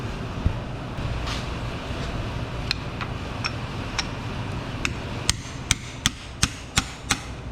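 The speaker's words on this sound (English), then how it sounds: "I'm going to give it some gentle taps with a hammer" Sharp metallic hammer taps on a pry bar against a Lexus RX350 CV axle, sparse and irregular at first, then a steady run of about six evenly spaced strikes near the end.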